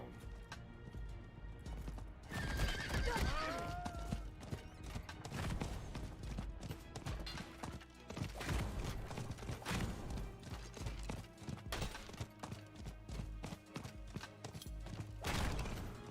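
Rhythmic hoofbeats of a galloping horse in Diablo 4 run continuously under loud, dense game sound effects and music.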